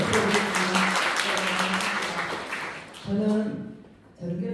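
Audience applause welcomes a guest at a lawmaker's public report meeting, with dense clapping that fades out, broken by a voice speaking partway through and again at the end.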